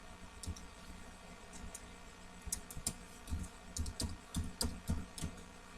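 Computer keyboard typing a short web address, a quick run of light, close key clicks that grows denser toward the end, with no talking.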